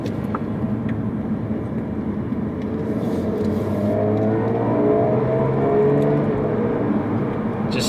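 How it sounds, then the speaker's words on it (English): Jaguar F-Type S Coupe engine pulling hard after a downshift, a loud, steady, close engine note with rising tones building through the run and no talk over it. "So I'll shift down here, give it a bit of a squirt, and it just drops straight into gear."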